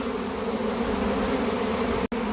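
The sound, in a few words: honey bee swarm buzzing around a hive box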